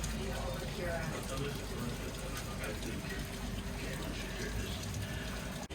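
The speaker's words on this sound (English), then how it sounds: "Look at that crazy water coming down. It is crazy raining." Heavy rain pours down outside a back door, a constant dense rushing and splashing of water at moderate loudness that continues steadily throughout.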